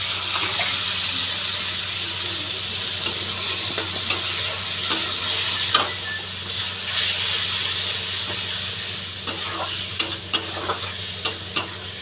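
Ginger-garlic paste sizzles and hisses in a hot pan while cooking taro-leaf greens. Scattered utensil scrapes and clinks sound over the steady frying noise, with a cluster of sharper taps near the end.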